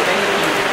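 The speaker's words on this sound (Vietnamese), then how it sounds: "vừa mưa lại vừa nắng" Dense, steady rain pouring down close by, a loud continuous hiss of drops hitting surfaces.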